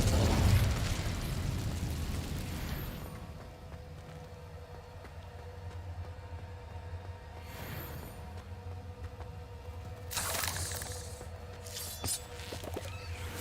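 An Incendio fire spell cast in the video game Hogwarts Legacy, with a loud fiery whoosh and burst at the start that fades into a low ambient rumble, followed by later softer flares.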